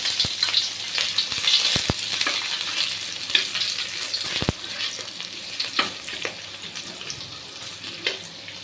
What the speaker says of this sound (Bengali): কড়াইয়ের মধ্যে সাদা তেল দিয়ে দিয়েছি এবার এটার মধ্যে অল্প একটুখানি পেঁয়াজ কুচি আর কাঁচা লঙ্কা কুচি দেবো